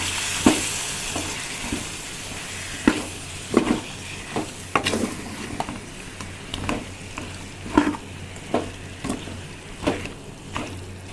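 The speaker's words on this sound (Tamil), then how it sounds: "இது எல்லாத்தையும் நல்லா நம்ம கிண்டி விட்டுக்கலாம்." Chicken pieces coated in chili powder are stirred in a hot pan, with repeated scraping clacks of the spoon about once a second over a steady sizzle, close and with no voices.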